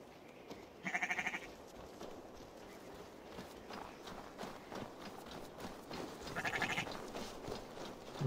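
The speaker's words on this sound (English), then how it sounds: "And open arms. Sheep." Two short, bright sheep bleats in Assassin's Creed Valhalla ring out, one near the start and one near the end, over a soft bed of shuffling and clopping steps.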